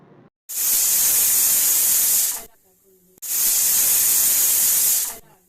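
A pressure cooker cooking mixed dal releases two loud, long whistling hisses of steam, each lasting about two seconds, separated by a short quiet gap.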